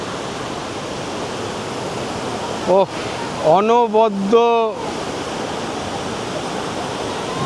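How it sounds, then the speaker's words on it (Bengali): The Murti River rushes hard past Rocky Island in the Dooars during monsoon, making a loud, unbroken roar of fast water and falls, while someone briefly speaks over it near the middle. "ঝর্ণা এবং জল, পুরো মূর্তি নদীর যে জল সেটা যাচ্ছে। জলের কি তেজ"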